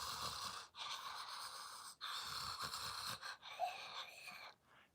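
A voice imitates a dying patient's death rattle, a wet, wheezy, rasping breath caused by mucus building up in the throat. Several noisy drawn-out breaths follow one another up close, with brief pauses between them.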